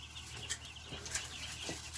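Young chicks in a pen flap and cluck after fresh water is added, giving soft, faint wing flutters and a few brief peeps and clucks close by.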